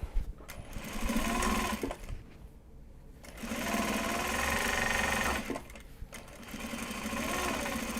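A sewing machine stitches Japanese fabric card holders in bursts of steady rapid whirring, pausing briefly between runs, close and fairly loud.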